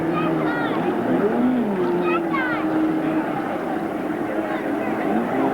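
A distant racing motorboat engine drones steadily while someone talks over it, the engine's whine rising and falling slightly.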